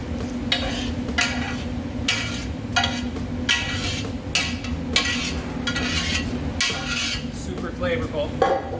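A utensil scrapes and knocks against a pan, lifting caramelized onions out while a soft sizzle continues underneath, with repeated clinks coming in short bursts about every second.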